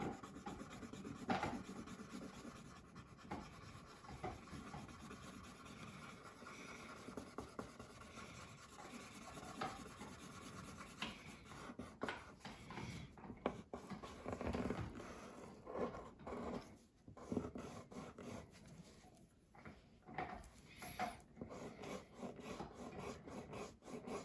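Soft, continuous scratchy rubbing of crayon strokes on paper, quiet and close, with irregular back-and-forth bursts and no talking.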